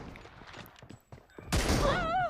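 Gunfire in the PUBG Mobile battle royale game, a few faint scattered shots early on, then a sudden loud burst of shooting near the end.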